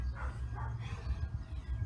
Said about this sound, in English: They've even got the dogs barking next door.